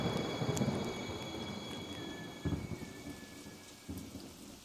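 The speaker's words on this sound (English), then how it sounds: "When the night fades and day breaks, the rains arrive." Heavy rain falls steadily through a nighttime thunderstorm, with a dense hiss of drops and deep thunder rumbles rolling in the background. A few sharper thuds land late on, and a thin insect-like whine runs along the top.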